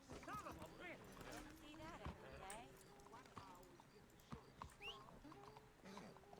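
Horse hooves clip-clop steadily on the ground in the RedM western roleplay game, the rhythmic beats sitting under near-constant voices talking.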